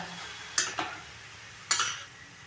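Halwa mixture with milk stirred and sautéed in a pan over medium flame, two quick scraping stir strokes against a soft background sizzle.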